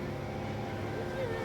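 A motorboat engine drones steadily up close on Yercaud Lake, a continuous low rumble with a wavering whine.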